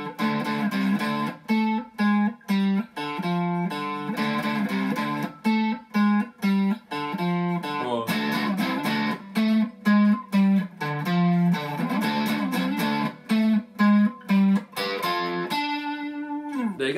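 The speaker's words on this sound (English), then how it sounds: "if you've got an amp at home and it's got distortion or crunch or anything like that, if you put the crunch on, it gives it a little bit of flavour" An electric guitar plays a riff through an amp with crunch distortion, a gritty, repeating pattern of short notes with brief gaps, ending on a sustained chord.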